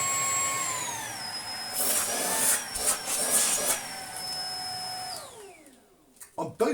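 A Shark IC160 DuoClean cordless vacuum runs on boost with a loud, high motor whine that shifts pitch several times before spinning down near the end, followed by a few clicks.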